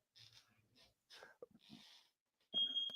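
A household alarm gives one sustained, piercing high beep near the end, following scattered breathy noises and soft vocal sounds in a quiet room.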